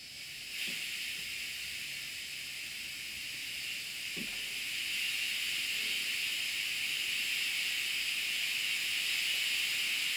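Low-pressure suction nozzle drawing fumes away, a faint steady airy hiss that builds slightly over time, with a couple of soft knocks in the background.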